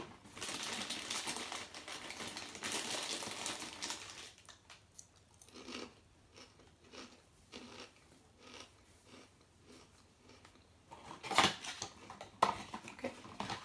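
Hair bleach gets mixed in a bowl with a few soft scrapes and taps, faint and close, after a louder stretch of rustling, then a sharp clink near the end.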